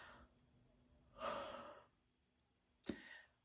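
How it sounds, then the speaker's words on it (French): A person yawns, a breathy drawn-out exhale swelling for about half a second, followed later by a short sharp intake of breath, faint and close with no words spoken. "je viens de bâiller"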